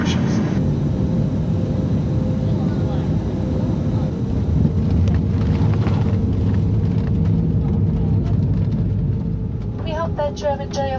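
Passenger airliner cabin during descent toward Tromsø Airport in winter, a steady loud engine and air rumble filling the space throughout, with a brief chime-like tone near the end.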